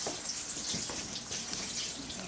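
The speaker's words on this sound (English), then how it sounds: "Really good is rinsing it off with water." Running water streams steadily from a tap to rinse freshly churned butter, washing away the buttermilk; a continuous close splashing hiss with no talk.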